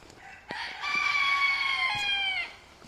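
A bantam rooster crows once among Sebright bantam chickens and quail in small coops, a single clear nearby crow lasting about two seconds over quiet background.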